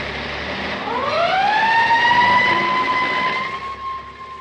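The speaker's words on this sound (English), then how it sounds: "those are the sounds of a school bell and fire engine" A fire engine siren winds up from a low pitch to a steady high wail, loud and close, with engine rumble underneath.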